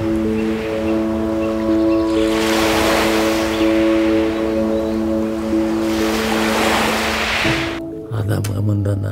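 Lake waves wash onto the shore in two broad surges, each swelling and fading over a few seconds, with steady tonal music underneath.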